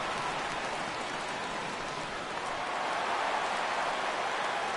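Steady rain falls across a baseball stadium in a video game, a dense, even hiss of drops on the field that holds at one level throughout with no voices over it.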